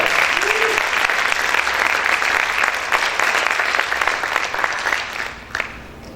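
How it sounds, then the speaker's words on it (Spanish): Church congregation applauding loudly during a Spanish-language sermon, a full, sustained wave of clapping that tapers off toward the end, with a brief voice audible early on. "Vamos a aplaudir fuerte al Rey."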